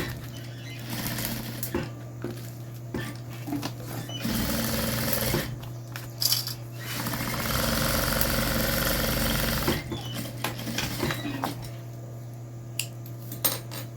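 Domestic sewing machine on its widest zigzag stitch runs through synthetic plastic material in several bursts, a whirring mechanical drone with pauses and small clicks between runs.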